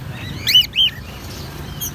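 Caged birds at the Obando pet market chirp in two sharp, bright calls close by, with further faint chirps near the end over a low ambient murmur.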